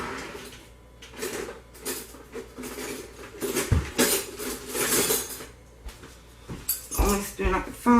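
Dishes and cutlery clink and clatter in a kitchen as a spoon is fetched during cold process soap making, with irregular metallic knocks and rattles; a voice talks intermittently.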